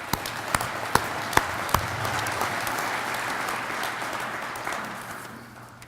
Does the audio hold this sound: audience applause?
yes